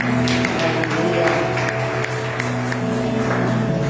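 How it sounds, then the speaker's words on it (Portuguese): A congregation claps together during a Portuguese-language church worship service. The applause is steady and continuous, spread evenly across the room, over sustained music tones. "Você pode aplaudir ao Senhor nesta hora."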